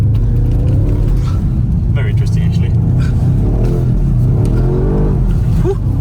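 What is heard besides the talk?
BMW M5 car accelerating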